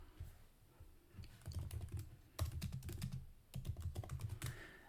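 Rapid clicking on a computer keyboard, close and fairly quiet, coming in bursts of quick keystrokes with short pauses between them, with no voices.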